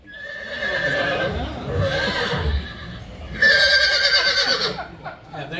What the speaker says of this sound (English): Horse! Is there a horse?